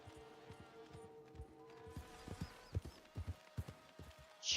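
Horse hooves clop on the ground in the Red Dead (RedM) game world, a series of irregular, fairly close thuds that grow louder and busier toward the end over a quiet ambient bed.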